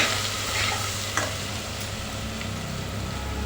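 A spoonful of chili powder and masala with turmeric sizzling in a spoonful of oil in a pan, a steady close frying hiss with a few brief scraping stirs and no talking.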